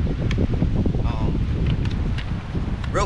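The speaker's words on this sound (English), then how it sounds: "That wind picking up." Wind gusting outdoors in a yard, a steady loud roar of buffeting against the microphone with rustling, a few faint brief voice fragments in the background.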